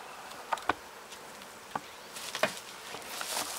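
Bees buzzing softly around an apiary hive during an August inspection, a low steady drone with a few louder passes close by and faint taps, no talking.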